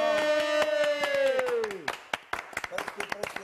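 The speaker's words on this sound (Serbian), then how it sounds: "Pozdravimo, jedan za jedan aplauz." Claps ring out in a Serbian house at New Year while a tree is trimmed, sharp irregular smacks that start over a sung line and carry on as a scattered burst of hand-claps once the singing trails off.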